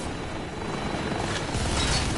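Helicopter rotor and engine noise in the Bulletstorm video game, a steady broadband thrum that swells slightly louder toward the end as the aircraft arrives, heard alone without talk.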